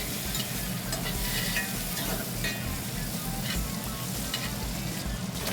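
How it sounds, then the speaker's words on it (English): Butter, rosemary and garlic go into a pan with a searing steak, raising a loud, dense, continuous sizzle with constant crackling spatter that holds steady throughout, up close and with no talk. "Now we're gonna add the butter, the rosemary, and the garlic"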